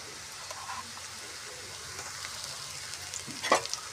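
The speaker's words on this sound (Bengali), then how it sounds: "আদাটা নেড়ে চেড়ে দিই, তেলের সঙ্গে ভালো মিশিয়ে নিই।" Chopped garlic, onion and ginger frying in oil in a pan at home, a quiet steady sizzle with soft stirring scrapes and a sharper clink of the spoon near the end.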